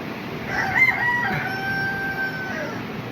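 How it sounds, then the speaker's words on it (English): A rooster crows one long, drawn-out cock-a-doodle-doo, fairly close, over a steady background hiss. "This is my same rooster I told you to pay attention to"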